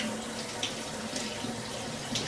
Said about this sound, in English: And I always give it a second rinse,